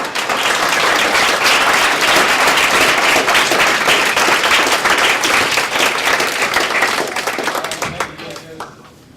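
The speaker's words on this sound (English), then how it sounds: "Let's give them a round of applause" Dense, loud applause fills a student government general assembly hall, a roomful of people clapping steadily together before the noise thins and fades away over the last second or so.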